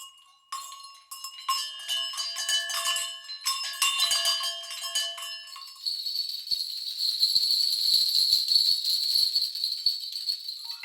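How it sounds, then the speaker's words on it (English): Wood chimes and bells from a sample library ring out as clustered metallic and wooden strikes, then give way to a sustained shimmering wash of tinkling chimes that fills the remaining seconds, fairly loud with no voices. "and some wood chimes and bells."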